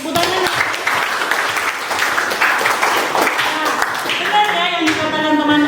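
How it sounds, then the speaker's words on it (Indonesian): A classroom of students claps for a classmate during a plant cultivation lesson, dense steady applause throughout, with voices and a brief musical tone rising under it near the end. "Tepuk tangan."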